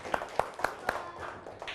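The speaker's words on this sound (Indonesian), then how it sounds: "yuk kita tepuk tangan dulu yuk" Children clap their hands together in a primary school classroom, four quick evenly spaced claps followed by softer scattered ones, faint and close.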